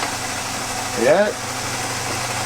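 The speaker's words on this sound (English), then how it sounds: "if I have to bore out a cylinder more than 10 thousandths, I use my boring bar, and it cuts it out really fast" A cylinder boring bar machine runs in a workshop, producing a steady low mechanical hum throughout. A person says a single brief word partway through.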